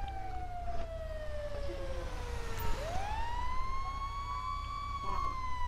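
Video game siren of an arriving EMS ambulance at night, a wailing tone that sweeps down then rises again as it draws near, moderately loud with faint background rumble and no talk.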